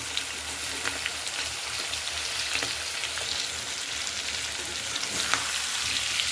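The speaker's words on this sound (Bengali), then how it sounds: "একটু ভাজা হবে টমেটোগুলো।" Chopped tomatoes frying in a pan give a steady, close sizzle with faint crackles throughout, and no voices.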